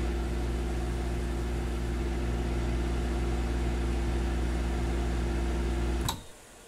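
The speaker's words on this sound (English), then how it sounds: "I'm just going to microwave it and see what they think." Microwave oven running in the Cooking Simulator video game, a steady loud electric hum with a constant drone that stops abruptly near the end, no talk.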